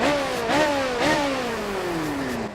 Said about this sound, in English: Engine fired.